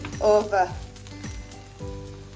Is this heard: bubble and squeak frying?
yes